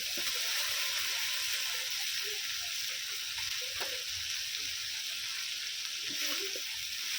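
Homemade tomato paste frying in spiced oil for a potato and magur fish curry, a steady bright sizzle close by with a few soft stirring knocks and no talk.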